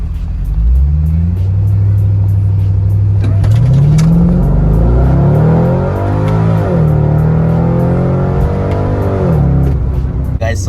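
C6 Corvette with a VaraRam cold air intake accelerating hard on a run, a loud close engine climbing through rising revs with clear shifts and drops in pitch.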